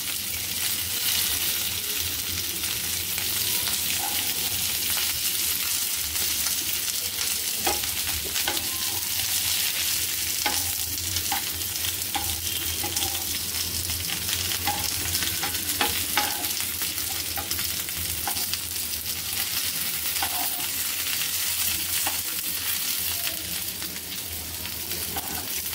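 Stuffed okra (bharleli bhendi) frying in a pan: a loud, continuous, dense sizzle with scattered crackles and occasional stirring scrapes that lasts throughout, with no talk.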